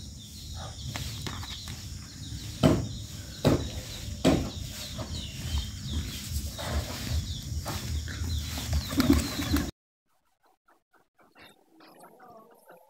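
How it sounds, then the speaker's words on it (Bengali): Pigeons peck and tear at Malabar spinach leaves, making sharp irregular taps and scuffling rustles over a steady noisy background, with a few louder knocks before the sound cuts off to near silence. "নিমেষেই আমার কবুতরগুলা পাতাগুলা খেয়ে শেষ করলো"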